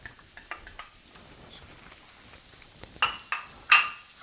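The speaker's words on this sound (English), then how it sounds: "Let that get a little sizzle." Onions and peppers sizzle in a pan for homemade Alfredo sauce, a faint steady fry with sharp hissing spits and crackles growing louder toward the end, close by, no talking.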